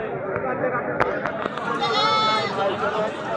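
Goats bleating at a busy Sunday village goat market, a few wavering calls rising over steady, close crowd chatter and people talking.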